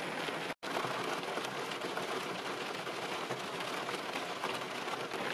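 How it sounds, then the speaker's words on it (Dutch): Heavy downpour pounds a car from outside while the listener sits within, a dense, steady, loud hiss that runs unbroken except for a momentary dropout near the start, with no voices. "En dan moet ik de auto uit en het stortregent."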